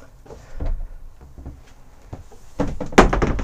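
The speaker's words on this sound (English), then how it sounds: "We have got the sliding door to partition the rear section off. Again, that slides across and blanks the rear off." Bailey caravan's interior sliding partition door moved across, a series of close rolling knocks and thuds ending in a firmer bump as it closes.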